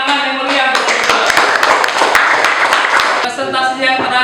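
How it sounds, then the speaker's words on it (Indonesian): A classroom of primary school pupils claps for a group that has just presented, dense overlapping clapping running steadily throughout with voices mixed in, easing slightly near the end. "Beri tepuk tangan yang meriah untuk kelompok 2"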